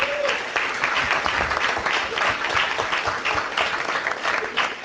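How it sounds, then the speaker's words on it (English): A room at a council meeting breaks into a steady round of applause for a performing team, dense even clapping from many hands throughout, fairly close and continuous. "they really do deserve a round of applause for that"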